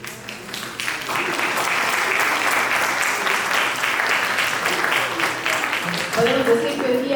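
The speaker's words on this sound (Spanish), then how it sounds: "Le pedimos un fuerte aplauso para que nos acompañe." An audience gives a strong round of applause to welcome a speaker at a gastronomy conference, with clapping that builds quickly and stays dense and loud, and a voice comes through faintly near the end.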